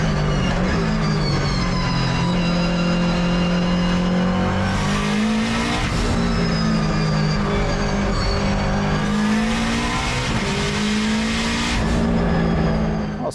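A Subaru STI two-door time attack race car with a sequential gearbox drives hard, its gear whine rising and falling with the engine through shifts, loud and continuous with no talking.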